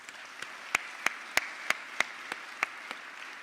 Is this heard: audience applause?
yes